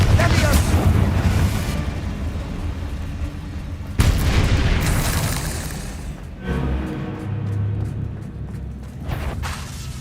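Repeated Confringo blasting-spell explosions boom in the Hogwarts Legacy video game, loud rumbling blasts with sharp onsets around four and six seconds over continuous game audio and voices.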